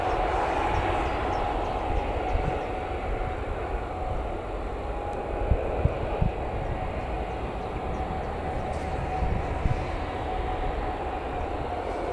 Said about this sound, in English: Got that Jet2 Holidays taxi now as well.